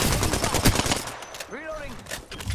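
A charge rifle fires in a video game firefight: dense, loud rapid gunfire crackles at the start, then gives way to whooping sweeping tones and fainter shots, with voices heard under the action.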